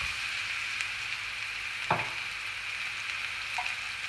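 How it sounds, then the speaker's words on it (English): Steak frying in coconut oil in a pan, a steady bright sizzle throughout with one brief louder pop and scrape partway, fairly close and without talk. "then we'll chuck our steak in"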